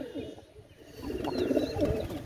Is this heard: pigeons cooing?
yes